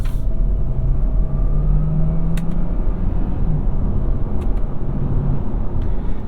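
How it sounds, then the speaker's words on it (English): A 2022 Hyundai Tucson with a 6-speed automatic rolls onto loose gravel, giving a loud, steady low road rumble with a faint crunchy texture throughout. "Oh, bumpy spot. Onto loose gravel."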